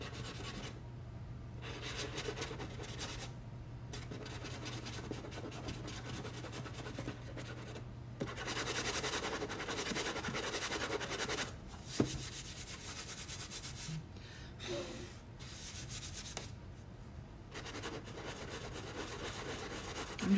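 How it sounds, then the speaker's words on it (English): A sanding block rubs lightly over wood in soft, scratchy back-and-forth strokes. The strokes stop briefly now and then and sound faint and close, with no talk. "I'm just lightly sanding it."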